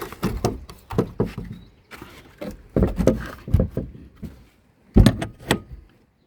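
Heavy iron door to a cellar being unlocked and swung open, a series of loud metallic clanks, rattles and thuds in irregular bursts, close by.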